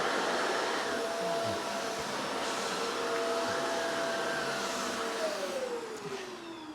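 A Shark Rotator NV752 upright vacuum cleaner whines loudly as it is pushed over soft carpet, its motor pitch wavering and dropping as it strains and bogs down toward the end.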